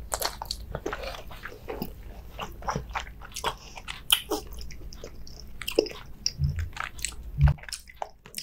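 Close, intimate biting and chewing of fatty bluefin tuna belly sashimi with rice, with soft squishy bites and continuous wet mastication sounds over several seconds and no voices.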